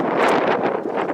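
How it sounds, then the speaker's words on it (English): Strong wind batters the microphone outdoors on a stormy morning, a loud, rough, continuous roar that swamps everything else. "at this point the wind just became too much, overwhelmed everything, so blotted out"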